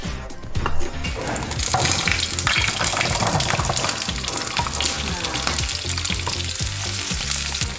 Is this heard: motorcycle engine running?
no